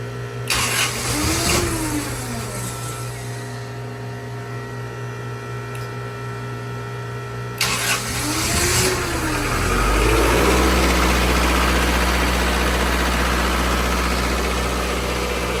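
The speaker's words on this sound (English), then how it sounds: "So we're gonna go ahead and fire up the generator, switch the power over" A diesel generator aboard a 65-foot boat cranks and fires, then settles into a steady, close, droning idle. Its low hum runs alongside the vessel's constant mechanical background.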